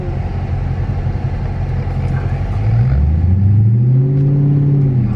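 A 2018 Dodge Charger Daytona 392 V8 accelerating hard, a loud, close engine rumble that climbs steadily in pitch as it revs up through the gears.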